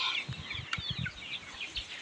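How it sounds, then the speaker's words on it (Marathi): Hens on a farm give short, quiet, repeated clucks in an irregular rhythm, close by. "आमच्या कोंबड्या काय करायला लागल्या"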